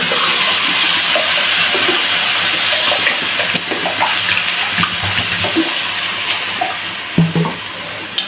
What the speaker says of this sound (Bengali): এখন ঝোলের জন্য পানি দিলাম